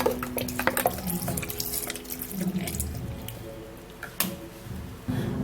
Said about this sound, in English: put in some clean purified water to blend